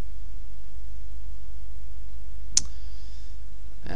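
A single sharp computer mouse click while working in SolidWorks CAD software, close and clear against a quiet background hum, followed by a softer tick moments later.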